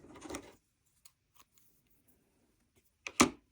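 Scissors snip through thread while knotting a scroll piece, a soft rustle first, then one sharp close cut near the end, alone with no talk.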